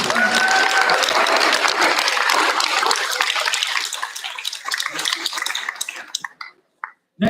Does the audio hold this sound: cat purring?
no